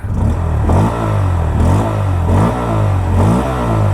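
A 2025 Bajaj Pulsar N160 motorcycle engine idles in neutral with a deep throbbing rumble and is revved several times in quick surges, close and loud.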